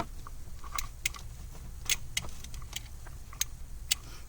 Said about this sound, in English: The relay is activating every time we touch it.